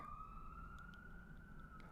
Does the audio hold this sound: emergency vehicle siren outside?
yes